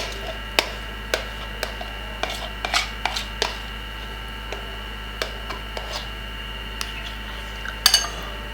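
Moringa body scrub being stirred in a clay bowl: a scattered series of light clicking, scraping taps, close and fairly quiet, with a brief cluster of sharper clinks near the end.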